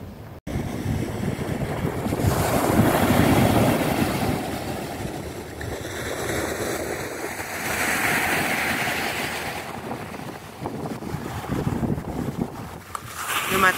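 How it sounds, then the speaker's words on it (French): Sea waves wash onto the shore at L'Albufera, a broad rolling surge rising and falling over a constant rush of wind buffeting the microphone, with no voices. "je préfère franchement entendre le bruit des vagues que des gens qui crient à côté"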